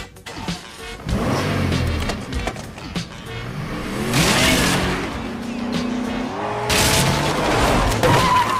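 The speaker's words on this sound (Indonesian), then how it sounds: "Frank kemudian langsung pergi dari rumah Darren dengan merobos pintu bagasinya" Film scene of a car speeding off and crashing through a garage door: revving engine, tire squeal and two loud bursts of crashing impact, close and forceful.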